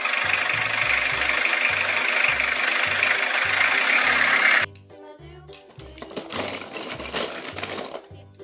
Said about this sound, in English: Forklift.